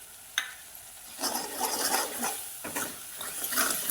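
Potatoes with turmeric, homemade black masala and mutton masala sizzle in an oily kadhai while a spoon stirs and scrapes them, close and steady.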